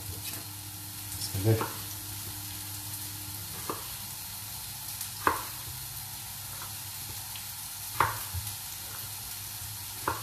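Peppers sizzle steadily in a hot pan for shakshuka, with a steady frying hiss. Sharp scrapes and clacks of stirring punctuate it every second or two, and a brief spoken phrase comes near the start.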